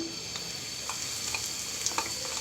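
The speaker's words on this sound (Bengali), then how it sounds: "এবার এর মাঝে আমি 1/4 কাপ পরিমাণ পেঁয়াজ কুচি দিয়ে দিচ্ছি" Chopped onions frying in hot mustard oil in a pan, a steady soft sizzle with light crackles and occasional stirring scrapes, fairly quiet and close.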